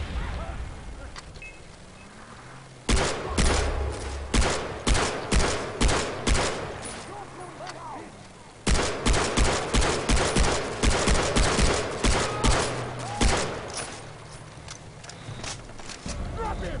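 Gunfire in the video game Far Cry 3: loud bursts of rapid automatic shots in two long volleys separated by a quieter stretch, with a few scattered single shots near the end.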